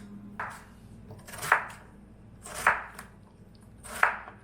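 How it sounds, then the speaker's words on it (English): Onions, carrots and potatoes are chopped on a board with a kitchen knife. Three or four crisp, evenly spaced blade strikes sound close up, with no talking. "Cutting up some vegetables."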